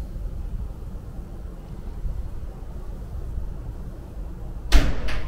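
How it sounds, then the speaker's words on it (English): A door bangs once near the end, a short sharp thud after a stretch of faint wind and room hum on a chilly day. "That was a door."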